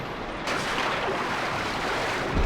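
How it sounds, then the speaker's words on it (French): A splash and muffled underwater rumble as a character plunges into water in the video game Limbo, a brief entry followed by steady dense submerged wash. "Plonger dans l'eau"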